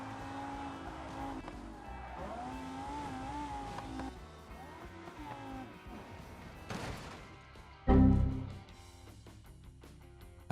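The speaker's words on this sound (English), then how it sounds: "Let's see how many parts the second car loses on this stretch." A car in the BeamNG driving game races along a stretch while shedding parts, its engine droning and shifting, then a sharp, loud crash-like impact and tire noise near the end, with no talk.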